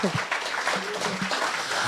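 An audience at a motivational talk claps, a dense patter of hands running throughout the moment while a speaker's voice continues over it.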